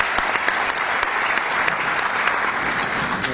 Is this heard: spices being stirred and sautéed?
no